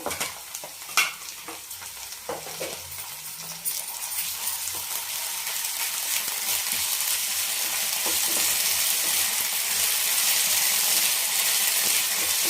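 Ginger garlic paste sizzles in a pan for mushroom biryani, a steady hiss that swells over time, with occasional scrapes and clinks of a stirring utensil against the pan.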